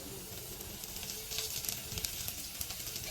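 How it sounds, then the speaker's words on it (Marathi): Sliced onion sizzles steadily as it fries in ghee for biryani, a close, even crackle with a few brighter bursts of spitting partway through and no one talking. "कांदा थोडासा परतलाय आणि आता तेल कमी पडतंय, म्हणजे थोडंसं तूप टाकलं"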